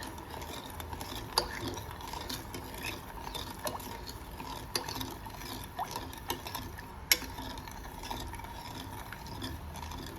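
A spoon scraping and clinking in a pot of sugar and water being stirred into syrup for badusha, soft steady rhythmic scraping with occasional sharper taps, quiet and close.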